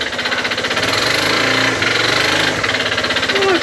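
A motorbike engine idles loud and close with a rapid, rough knocking pulse and a steady mechanical clatter, running alone without voices.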